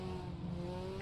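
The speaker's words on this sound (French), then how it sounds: "Gros freinage pour la chicane." A Renault Clio Cup race car braking hard for a chicane during a race, its engine note steady and tonal under a faint tire hiss, recorded on board and heard alone without talk.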